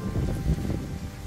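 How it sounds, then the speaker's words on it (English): Wind buffets a microphone in a low, rough rush, steady and fairly loud for a brief moment, with no voices, partway up a mountain near Frigiliana, Andalucia, Spain. "it's getting very windy actually."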